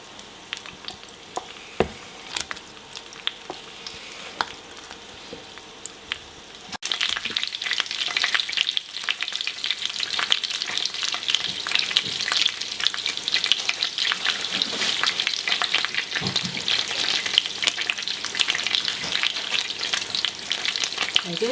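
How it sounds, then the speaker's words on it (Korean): Pea gnocchi being stirred in a pot of boiling water, a steady bubbling hiss with scraping spoon strokes that grows louder and denser partway through, continuing without talk. "바로바로 넣자마자 저어주세요."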